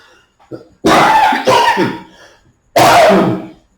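Two harsh, close coughs from a person with a cold, the first a double burst, the second a single loud hack, with a brief throat sound before them.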